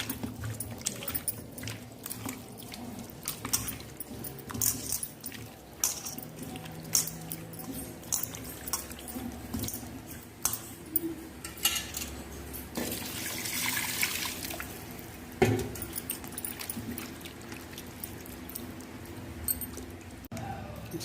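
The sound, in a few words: washing raw chicken with water and turmeric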